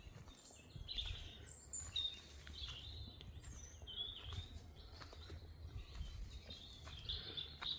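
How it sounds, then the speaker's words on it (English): Outdoor birdsong, several small birds giving repeated high chirps and short whistled phrases, fairly faint and somewhat distant over a low background rumble, with no talking. "Well, the birds are definitely in full swing today."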